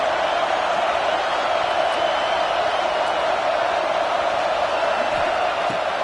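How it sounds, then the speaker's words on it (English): Stadium crowd at an Auburn football game rumbling as a loud, unbroken roar, dense and even from start to finish with no distinct voices. "This crowd going to try to make life miserable for these guys."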